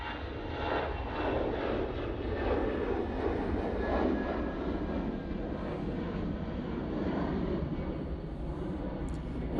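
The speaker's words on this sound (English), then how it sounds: "And they're off to Oslo using their A320-200." An easyJet Airbus A320-200 takes off from Manchester Airport bound for Oslo, its engines a loud, steady roar that holds throughout with no talk.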